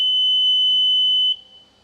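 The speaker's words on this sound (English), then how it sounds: "You'll have that alarm." A generator set's alarm sounds as a steady, loud high-pitched electronic tone, holding continuously for over a second before cutting out and leaving quieter background hum.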